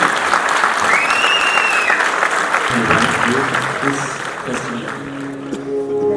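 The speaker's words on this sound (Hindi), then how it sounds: "जोरदार तालियां आपकी होगी।" Crowd at a literary festival applauds in sustained, even clapping, joined midway by tonal sounds and music-like notes as the clapping carries on.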